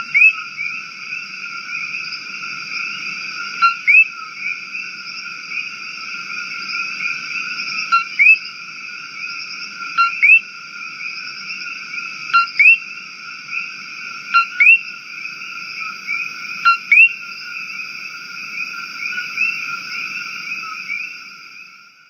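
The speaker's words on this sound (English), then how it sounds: "that's the coqui frog" Coqui frogs, an invasive species, call steadily in a repeating chorus, with sharp two-note chirps recurring every couple of seconds over a constant high trilling background, loud and close with no talk.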